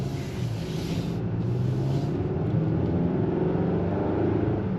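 A 2014-2021 Mazda 6 on a test lap after a front brake pad and rotor replacement, with a steady low engine and road drone heard from inside the car, constant and fairly loud, no talking.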